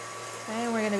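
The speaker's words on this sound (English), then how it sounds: "I'm gonna start whisking this up now" An electric whisk starts up in a bowl of marshmallow fluff, a steady close motor whine that rises in pitch and strength within about a second.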